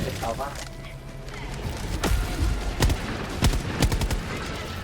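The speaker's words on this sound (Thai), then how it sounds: "เสียงปืนหนักแน่น" Rapid bursts of heavy gunfire in Helldivers 2 crack repeatedly, loud and close, with sharp individual shots standing out amid a dense background of battle noise and talk.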